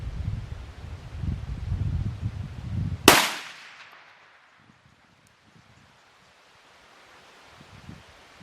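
A .375 Gibbs (Cheytac Improved) rifle fires a single long-range shot outdoors at 3861 yards: one loud, sharp crack cuts through steady wind rustle and fades into near silence.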